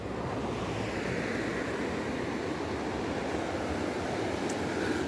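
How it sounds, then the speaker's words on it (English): South Atlantic Ocean waves at Misty Cliffs near Cape Town, a steady broad wash of surf with wind buffeting the microphone, continuous and moderately faint, with no voices. "Let's just take a closer look at the South Atlantic Ocean."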